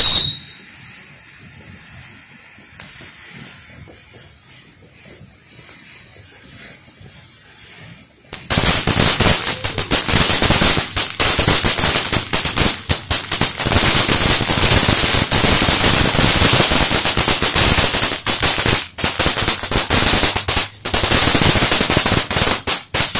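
Two kinds of July 4th fireworks going off at once, rapid machine-gun-like crackling bursts and pops, loud and nearby, after a quieter opening, continuing with brief gaps.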